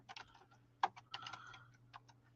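Keys clatter on a computer keyboard in quick, uneven bursts of clicks, close and fairly quiet over a steady low hum.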